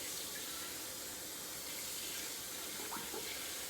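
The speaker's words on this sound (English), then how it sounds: "We're gonna add some water." Water runs steadily from a tap into a cooking pot holding turkey legs, a soft, even rushing stream heard close and alone for the whole stretch.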